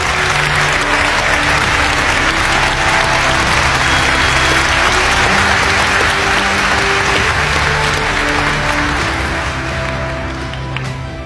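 An audience applauds to welcome a speaker to the podium, a dense, loud, continuous round of clapping that holds steady for about ten seconds before tapering off.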